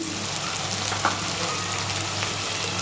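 Spices (turmeric, chili powder and salt) fry in oil in a pan while preparing a chicken dish. There is a steady close sizzle throughout, with one brief stirring scrape near the middle and no talking.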